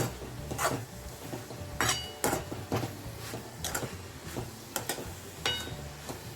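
Dried fish cooked with onion is stirred in a pan, a spatula scraping and clinking against the metal in a steady, irregular rhythm of knocks over a low sizzle, with no talking.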